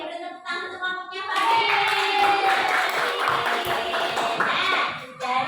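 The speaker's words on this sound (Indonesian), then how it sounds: "beri tepuk tangan untuk kelompoknya" Fifth-grade schoolchildren in a Semarang classroom clap for a group, a brief voice first, then a burst of many small hands clapping fairly close that fades out near the end.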